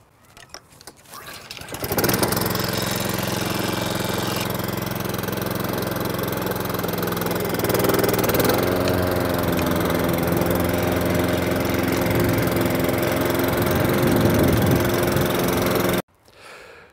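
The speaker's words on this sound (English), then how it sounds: "I'm going to be cutting higher with the rotary mower, which it's better at" Rotary lawn mower engine running steadily while cutting grass on a lawn, a continuous loud drone starting after a short lead-in and holding for most of the clip with a slight pitch shift midway, then cutting off abruptly near the end.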